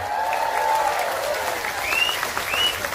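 Applause from an audience at a live Islamic religious gathering in Taichung, Taiwan, a steady broadband clatter of many hands with faint voices calling over it.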